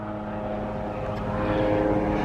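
A fighter plane passes overhead outdoors, its engine drone steady and building slightly louder toward the end, with no voices heard.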